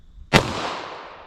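One sharp, loud .40 S&W pistol shot fired from a 5-inch barrel at a shooting range, a sudden crack followed by a short fading echo.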